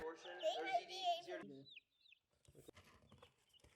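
A voice talks, then a couple of brief, high chicken peeps sound close by before more talking resumes.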